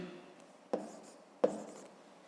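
Numbers are handwritten on paper during a fifth-grade subtraction exercise, with two crisp pen strokes landing about 0.7 seconds apart over a soft, steady scratching in a quiet room.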